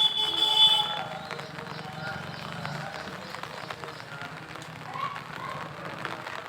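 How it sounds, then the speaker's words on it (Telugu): Steady rain patters on a surface, a soft broadband hiss, with a voice speaking briefly over it while walking out under an umbrella. "వర్షంలోనే పోతాను ఇక గొడుగు పట్టుకొని"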